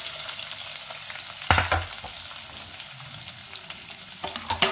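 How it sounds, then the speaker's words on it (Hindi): Chopped medium onion frying in half a cup of oil for Bihari dum keema, with a steady close sizzle, a few sharp stirring clacks and crackles, and no talking. "अब मैंने इसमें 1/2 कप ऑयल लिया और इसमें 1 मीडियम साइज़ प्याज काट के डाली।"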